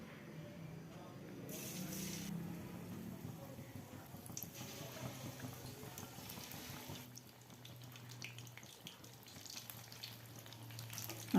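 Pumpkin pieces dipped in batter crackle and sizzle in hot oil in a kadai, a soft, steady frying hiss with occasional clinks and handling noises, fairly quiet throughout.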